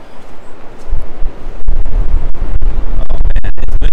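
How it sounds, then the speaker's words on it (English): Strong wind roaring and thumping against the microphone in loud, gusty bursts at a beach house in Gualala, with no one speaking. "Oh man, it's windy."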